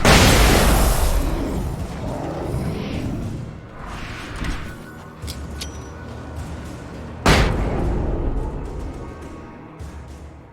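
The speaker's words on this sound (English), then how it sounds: "lots of sirens, a helicopter buzzing around, and a gunshot" A single sharp gunshot cracks out midway through a dense, rumbling Alan Wake game soundscape of distant booms, sirens and a buzzing helicopter.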